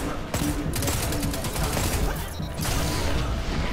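Rapid bursts of hand cannon gunfire in the shooter game Destiny 2, several close sharp shots mixed into a busy, dense layer of battle noise.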